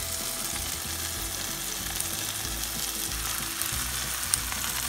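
Ground spices frying for a fish curry hiss and sizzle steadily in hot oil, a dense crackling bed with a few soft stirring thumps, close and continuous with no talking.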